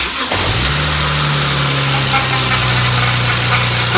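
A BMW N54 car engine cranks briefly and fires, then settles into a loud, steady idle that carries on close by with no voices.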